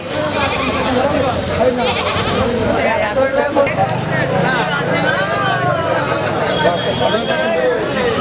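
Rajasthani Totapuri goats bleat repeatedly amid a crowded livestock market, wavering calls rising over loud, constant chatter from many people nearby.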